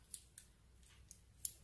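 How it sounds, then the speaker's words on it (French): Adhesive tape pulled and snipped during continuous warping for tablet weaving, heard as several sharp, brief snips spaced apart over a quiet background, with no talking. "Et puis, je prends du scotch."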